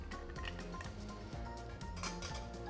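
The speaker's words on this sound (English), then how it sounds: "Another quick stir just to integrate that fresh ice." Fresh ice is stirred in an old fashioned glass holding a maple cocktail, producing quiet, close clinks and rattles of cubes against glass in a loose, continuous rhythm.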